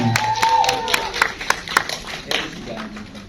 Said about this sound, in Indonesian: bersama dengan tepuk tangan untuk Nadia Arina